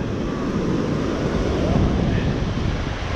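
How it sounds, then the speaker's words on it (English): Big ocean waves break on a wide beach in a continuous broad roar of surf, mixed with heavy wind buffeting the microphone, with no clear separate break. "Waves are big though. Ocean is very angry."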